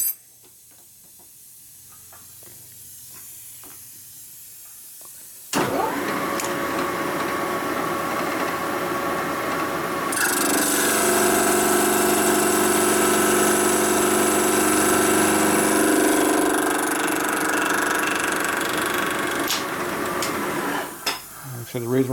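Cutting tool grinding through the baffle plate of a 1942 Harley-Davidson WLA 45 flathead engine being built as a 56ci stroker, starting as a loud, steady whine after a quiet stretch and running continuously for about sixteen seconds with a shift midway.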